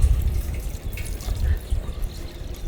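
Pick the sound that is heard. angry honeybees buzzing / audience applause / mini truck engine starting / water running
water running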